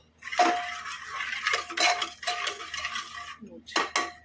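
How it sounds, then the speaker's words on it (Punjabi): Metal utensil scraping and clinking against a pan while mashing cooked ghiya (bottle gourd) sabzi, in several close, irregular bursts of scraping and clatter with short pauses between. "ਆਪਾਂ ਥੋੜਾ ਮੈਸ਼ ਕਰ ਲਾਂਗੇ"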